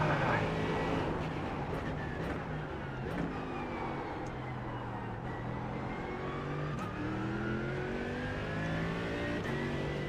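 GT3 Ferrari race cars circle Suzuka in iRacing, engines droning and shifting pitch as they rise and fall through the gears, a steady loud roar with a voice talking over it.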